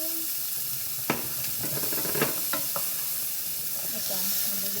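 Onion fries in a pan until brown, a soft steady sizzle with a cluster of quick clinks and scrapes from stirring near the middle, close and fairly quiet.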